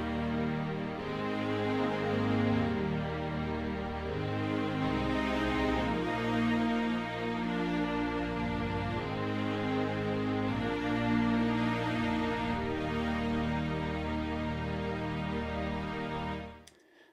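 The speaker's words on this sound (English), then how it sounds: "sequenced MIDI track of some strings" A sequenced MIDI strings track in Pro Tools, with lush sustained string chords that shift steadily over time, played continuously at moderate level before cutting off at the end, with no voices.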